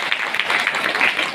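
Audience applause breaks out for Durgesh sir at a sales leadership gathering, a dense, steady wash of many hands clapping at once, moderately loud throughout.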